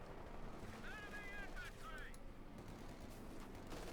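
In Company of Heroes 2, distant machine gun bursts and battle rumble continue at low volume. A commentator talks over the fighting throughout, and a few whistling tones sweep through the middle.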